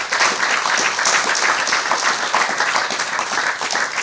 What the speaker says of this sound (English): can we give a round of applause to Paul for his presentation